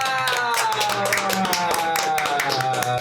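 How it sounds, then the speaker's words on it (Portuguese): Clapping in a Catholic podcast studio welcoming a guest, a brisk, close burst of hands from a small group that runs steadily under some tonal background sound. "Salva de palmas!"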